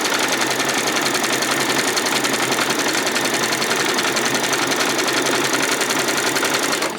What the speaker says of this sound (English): Just run all the way around with that zigzag stitch.